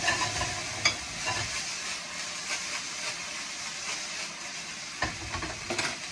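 Fried rice sizzles in a pan while a spatula scrapes and clanks against it, sharp knocks near the start and again around five seconds over a continuous hiss, close by and without speech.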